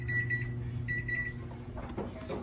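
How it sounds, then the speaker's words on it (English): A kitchen timer alarm rings in two bursts of bright repeating beeps over steady low kitchen hum while pizzas with veggies, meat, onions and melting cheese finish baking, followed by light clattering. "There's the timer."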